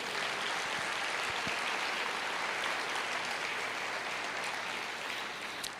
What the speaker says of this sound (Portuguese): Você pode dar uma salva de palmas para Deus?